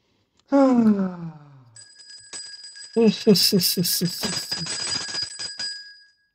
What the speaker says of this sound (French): C'est quoi cette cloche? Tellement... Bah, c'est les cloches d'exorcisme.